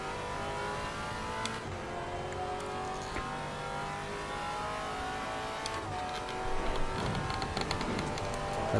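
A Maserati GT4 race car's engine in Assetto Corsa Competizione at Kyalami, a steady droning roar that holds constant throughout and swells slightly toward the end, with no talking.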